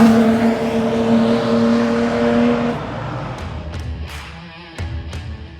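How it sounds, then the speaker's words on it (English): A Daimler car driving past, a steady engine hum that fades away, followed by a few faint clicks and knocks nearby. "That's, as we know, Harry's car."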